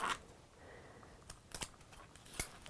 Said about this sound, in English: what you are going to do is get your paper scissors